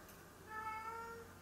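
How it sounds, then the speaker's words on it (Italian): A house cat gives one short, quiet meow, a brief tonal cry heard close but faint in a calm indoor room. "Che c'è Cicina che sta miagolando?"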